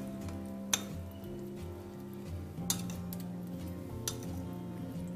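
A spoon stirs salted tomato chutney in a bowl, giving a few sharp clinks against the side at irregular moments over a steady low background hum.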